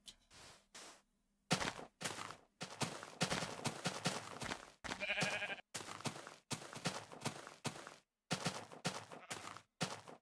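Sheep in a Minecraft game bleat repeatedly in short, close calls, one after another with brief silent gaps between them.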